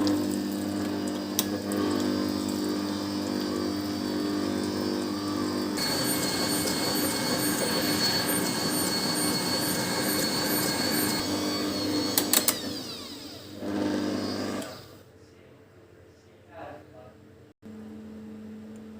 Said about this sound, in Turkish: Dördüncü yumurtamı da koyup yine güzelce çırpmaya devam edeceğim.